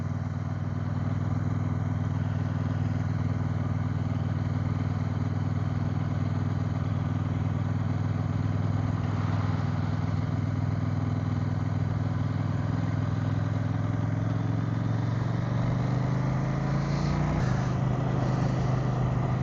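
A 2023 CFMoto 800NK motorcycle cruising in third gear at about 40 km/h, its engine a steady, loud, even drone heard from the rider's position, rising slightly in pitch near the end.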